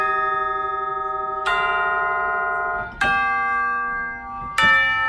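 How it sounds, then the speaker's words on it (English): Orchestral chimes struck in a percussion section, three ringing metallic strikes spaced about a second and a half apart, each bright attack leaving a long sustained tone, close and clear with no talk. "And this bell, the bell's chimes, excuse me, sometimes Peter plays it."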